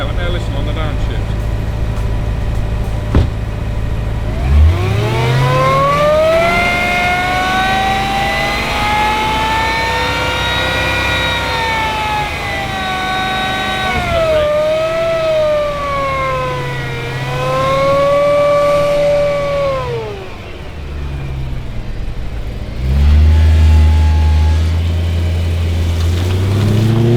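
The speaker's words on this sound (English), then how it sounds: "Blast it down there, let me listen on the downshift." BMW E90 M3 on a dyno revs up through a long climbing engine note, then drops on the downshift, loud and close, with voices present.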